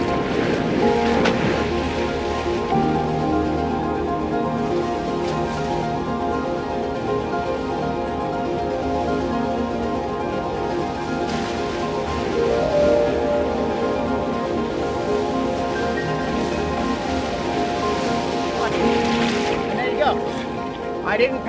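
Ocean surf rolls and breaks continuously around a surfer out in the water, a loud, wide wash of churning waves with bursts of spray and wind over it.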